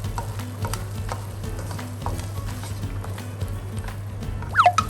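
Stink beans and shrimp stir-fried in a pan, a steady sizzle with scraping and stirring clatter throughout, close and moderately loud, ending in a few sharper knocks.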